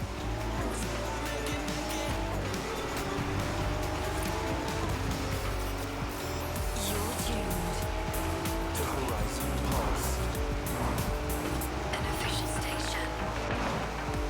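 A car racing in Forza Horizon 4, engine roaring continuously with rising and falling gear pitch and tire squeal, loud and dense, with a voice talking over it.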